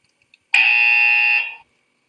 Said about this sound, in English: Since the driver yawned, the buzzer indicated him about his fatigue.